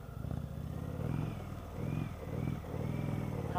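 An Indian Chieftain Dark Horse motorcycle rumbles on the road, its low engine drone swelling and easing with throttle over a few seconds, heard close from the rider's position.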